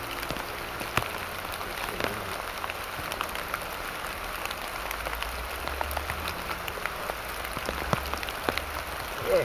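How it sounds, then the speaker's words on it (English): Steady rain patters down through a forest, a dense wash of drops on leaves and ground with occasional louder close splashes, heard alone without voices. "sitting here in the rain in the forest, getting a brew on"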